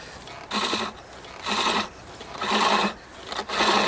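A skew chisel cuts wood with its tip in four repeated rasping strokes, each a short burst of dry scraping separated by brief quiet gaps, close and fairly loud.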